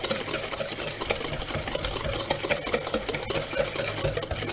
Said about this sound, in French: on va mélanger les jaunes d'œufs avec le sucre dans un récipient à côté